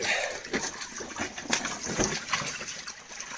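Water is released from a fish pond at night during a harvest, an uneven splashing gush with irregular bursts, fairly close and moderately loud, with no talk.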